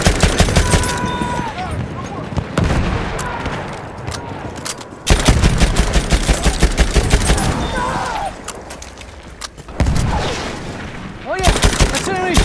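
Battlefield 1 Team Deathmatch on the Suez map: heavy machine-gun bursts and booming shots rattle loudly through the whole stretch, with brief lulls and shouted voices mixed in among the close, relentless fire.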